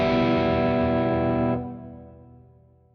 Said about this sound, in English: Right now, let's add the sick reverb.